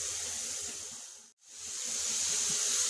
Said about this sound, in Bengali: মশলাগুলোকে তেল উপরে ওঠা পর্যন্ত ভেজে নিব